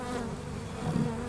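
A honeybee swarm hums steadily and continuously, close and moderately loud, while being installed into a top bar hive.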